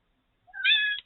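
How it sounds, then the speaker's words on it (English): A cat lets out a single short meow, close and clear against silence. "And oh, hey, kitty."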